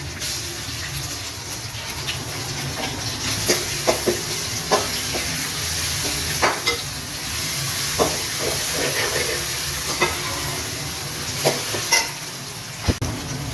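Onions and garlic paste fry lightly in a pan for masala bhindi, giving a steady close sizzle and hiss broken by regular clicks and scrapes of a stirring spoon.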